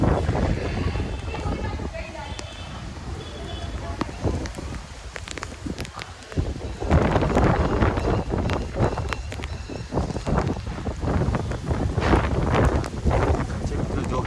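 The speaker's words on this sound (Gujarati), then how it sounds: "જોરદાર પવન સાથે" Strong wind during night rain roars and buffets the microphone in gusts throughout, with broadband rushing noise that swells louder in the second half.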